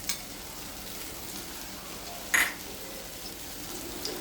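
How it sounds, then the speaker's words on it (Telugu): Cloves and star anise frying in oil for gongura mutton give a steady, moderate sizzle throughout, with one brief sharper crackle midway and no talking. "కొంచెం ఆయిల్ ఎక్కువ పడుతుంది మటన్కి. లవంగం, అనాస పువ్వు ఇవి వేసేసుకోవాలి."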